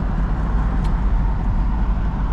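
A single-turbo Nissan G35 cruises along on a cold, windy day, its engine and road noise forming a steady low drone heard from inside the car, with no talking.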